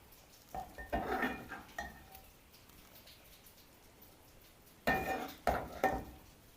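Cooked chicken koftas being dished out of a pot, a serving spoon scraping and clinking against metal in two separate clusters of close clatter with a quiet pause between them.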